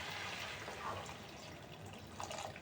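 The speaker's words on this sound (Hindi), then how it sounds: "अभी मैं टमाटर में थोड़ा पानी देती हूँ।" Water poured into mashed tomatoes in a cooking pan, a steady soft splashing and pouring hiss that runs continuously and fairly quietly, with no talk.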